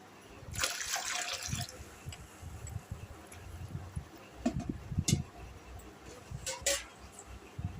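Liquid is poured and stirred while two liters are mixed to make fabric softener, giving a continuous low sloshing trickle at moderate volume with a few sharper splashes and knocks.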